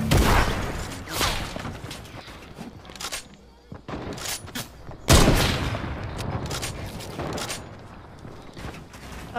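Sniper and other gunfire in a Fortnite match, several sharp loud shots spaced irregularly with a heavy crack near the middle, surrounded by softer game noise and occasional movement.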